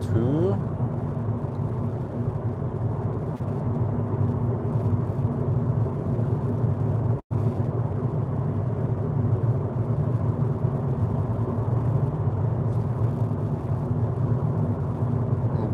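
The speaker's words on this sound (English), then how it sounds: "Driving e-Golf." A low, steady cabin rumble from a moving Volkswagen e-Golf electric car carries on throughout with road noise, broken once by a brief dropout, while someone talks over it.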